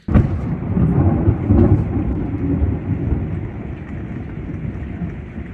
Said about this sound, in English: So we just had thunder that literally shook the trailer.